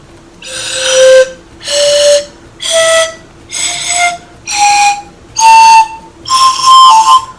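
Seven separate breathy notes on a homemade pan flute are blown one after another, each pitch stepping higher than the last, clear and close with short gaps between.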